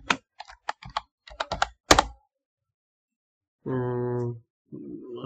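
Computer keyboard being typed on, bursts of quick clicking keystrokes near and clear, followed after a pause by a short steady hum and a brief rustle.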